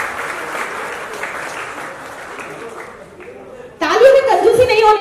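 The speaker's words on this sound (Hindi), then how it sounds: "तालियों में कंजूसी नहीं होनी" Audience applause at a Realme 14T phone launch event, starting as a dense, moderate wash of clapping, then swelling louder near the end as a voice and cheering rise over it.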